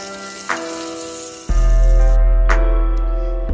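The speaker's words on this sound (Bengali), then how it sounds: "আর সাদা তেলটা গরম হতেই এবার আমি মাশরুমগুলোকে ওই তেলের মধ্যে দিয়ে হালকা ব্রাউন করে ভেজে নেব।" Mushrooms browning in hot white vegetable oil, a close sizzling hiss with a sudden louder surge partway through and a low steady hum from kitchen equipment underneath, no voices.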